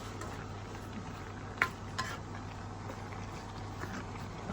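Bopis with radish and carrots sautéing in a pan, a steady soft sizzle with a constant low hum, broken by a couple of sharp utensil clinks against the pan.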